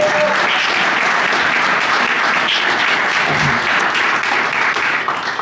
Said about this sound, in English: could you give them a round of applause for showing up?